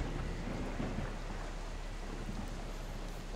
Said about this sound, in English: The thunder of the audio just overlapped with what you said.